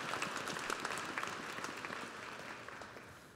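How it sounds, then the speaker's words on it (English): Applause from a university commencement audience for a leadership group, a steady wash of many hands clapping at a distance, softening gradually toward the end. "Please give the members of the Lamar University Leadership Group your applause"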